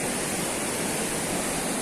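Water from the Jati dam rushing into a canal in the Ceará backcountry, a steady loud broadband roar close by, continuous and unbroken throughout with no voices.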